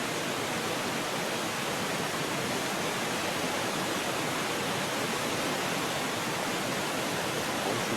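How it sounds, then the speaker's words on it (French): A waterfall in the video game Clawed roars as a constant, dense rushing wash, steady and loud with no voices or breaks. "Oh, je suis derrière la cascade"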